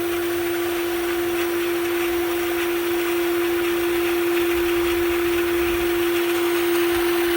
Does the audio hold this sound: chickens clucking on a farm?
no